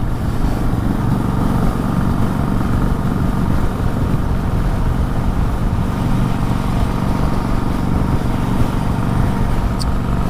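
An older metric motorcycle engine drones steadily while riding, a loud continuous low rumble with wind noise that stays constant throughout.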